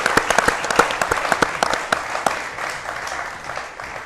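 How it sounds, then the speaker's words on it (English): A live television studio audience breaks into applause, a dense burst of claps that starts strong and gradually fades over a few seconds, with faint background voices. "A round of applause for these wonderful people."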